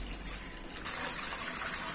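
Potato wafer slices being washed in a tub of water, a steady close rush and slosh of water that grows fuller partway through, with no talk.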